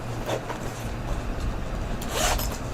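A zipper on a slim crossbody sling bag is handled in two short pulls about two seconds apart, close and moderately loud over a steady low background rumble.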